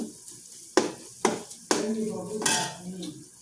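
Onions sautéed in a pan for a fish-head gravy, stirred so a utensil knocks against the pan in three sharp clanks, followed by a steady close sizzle with scraping.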